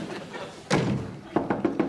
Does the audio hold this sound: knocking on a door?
yes